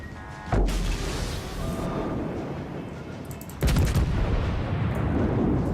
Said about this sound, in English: Stop bloody torpedoing me.